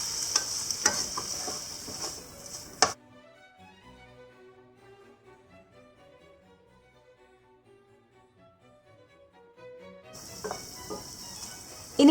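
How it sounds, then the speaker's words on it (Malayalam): Tomatoes are stirred into a frying pan, giving a soft sizzle with spoon scrapes near the start and the end, while a quiet stretch of background music plays in between. "നമുക്കിനി ഇതിലേക്ക് തക്കാളി ചേർക്കാം. തക്കാളി മിക്സ് ചെയ്യാം."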